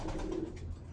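A racing pigeon, an inbred Lucky 13 cock, gives a short, soft coo at close range, with faint background noise.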